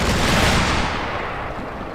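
Gunfire in the Combat Mission Market Garden video game, a dense continuous burst of shots and rumbling booms that fills the clip, loud at first and easing slightly toward the end.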